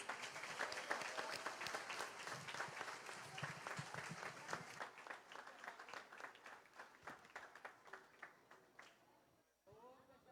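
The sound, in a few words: congregation applause in church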